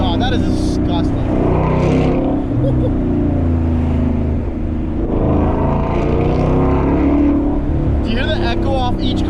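Mustang GT 5.0 V8 with an MBRP race exhaust: a steady, loud close engine drone whose echo swells and fades as it passes other cars in a tunnel, with someone talking over it.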